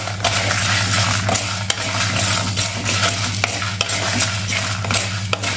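Chana dal, urad dal, black pepper and dried red chillies roast in a dry pan and are stirred steadily. Gritty, rattling scrapes come close up, with a few sharp clicks of grains against metal over a low steady hum.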